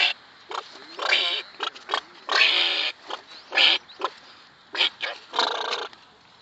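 A man imitates a monkey, making a run of short chattering and screeching vocal bursts separated by brief pauses, close and fairly loud with no other sounds.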